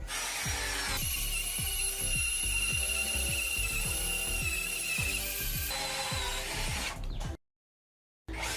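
Cordless drill boring a hole, a loud, steady whine of the motor with a rapid repetitive knocking rhythm beneath it, running for about seven seconds before cutting out abruptly.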